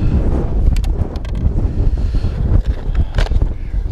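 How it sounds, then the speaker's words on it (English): Strong wind buffets an outdoor microphone on a very windy hilltop at Sugar Loaf, a loud continuous roar with gusting thumps and no speech. "I don't know how much wind noise you've got"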